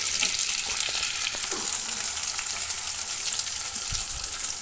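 Chopped onions for chilli chicken fry in a pan with a close, even hiss and crackle. Faint stirring knocks come near the end.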